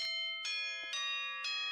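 A bright, melodic chime from the video game Danganronpa rings four times in an even rhythm, each tone ringing out clearly and alone with no voices.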